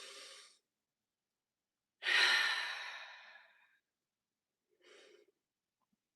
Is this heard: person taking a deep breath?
yes